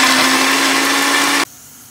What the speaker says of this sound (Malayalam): അപ്പോൾ തൈര് ഒഴിച്ചിട്ടുണ്ട് അരയ്ക്കുകയാണ്